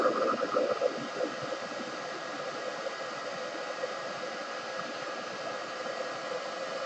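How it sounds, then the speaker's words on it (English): A blow dryer runs steadily to dry paint on a Batman figure, a constant whooshing airflow hum that starts slightly louder and then holds even and close throughout, with no talking. "I am going to be using the blow dryer off and on"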